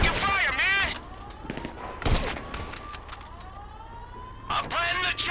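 Gunfire crackles in bursts during a GTA V battle, with a wailing siren and vehicle noise, while voices shout over the fighting.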